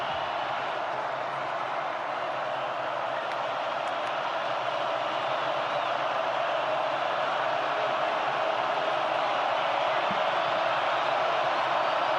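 Steady, dense roar of a large stadium crowd at Carter-Finley during a Georgia Tech vs NC State college football game, a continuous wash of noise holding level throughout with no talk on top.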